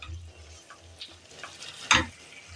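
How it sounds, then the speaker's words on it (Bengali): Fried pumpkin pieces with spices and a sugar substitute stirred in a pan over high flame for pumpkin chakka, giving a low sizzle with scraping strokes and one louder clatter near the end. "এটাকে এখন হাই ফ্লেম করে আমি নাড়াচাড়া করব।"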